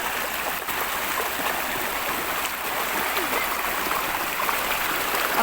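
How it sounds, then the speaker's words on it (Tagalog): Strong river current rushes around someone wading across a river, a loud, continuous broadband roar of flowing water close to the microphone, steady throughout. "Malakas po ang agos."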